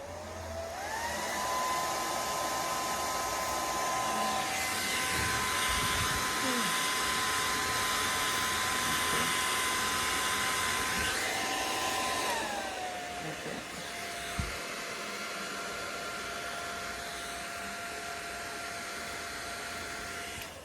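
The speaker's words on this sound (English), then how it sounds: "So I'm going to put my blow dryer on high because I need enough heat to blow the bubbles." Blow dryer running on high to heat poured epoxy resin and pop its bubbles, a loud steady whirring roar with a whine that shifts pitch midway, continuous and close.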